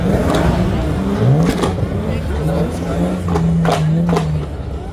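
A 4.4-litre V8 car engine at a burnout event revs in sharp, rising bursts, loud and close, while an announcer talks over much of it.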